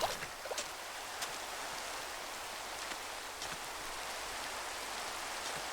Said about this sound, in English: The rain is great.